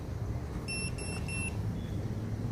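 Three short high-pitched beeps from the buzzer on a TinyHawk freestyle drone fitted with an XT30 connector, spaced evenly and moderately loud over a steady low background hum, with no talking.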